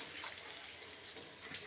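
Water pours into a pan of simmering tomato egg curry, a quiet, steady splashing stream that runs for under two seconds, faint and alone with no voices.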